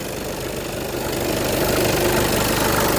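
A 2017 Volkswagen Passat 2.0 diesel engine idling steadily and loudly up close, with a continuous low rumble and a rapid knocking rhythm throughout.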